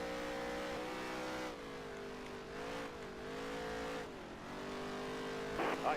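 A race car engine in NASCAR Heat 3 drones steadily on the Bristol dirt track, its pitch rising and falling with throttle through the turns, loud and continuous, with a brief scuffing burst near the end.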